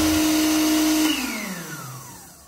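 A kitchen blender making a paçoca dessert whirs loudly at a steady pitch, then the motor note drops and winds down as the machine breaks and cuts out.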